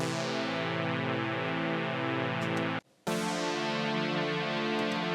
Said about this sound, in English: I've got this synth sweep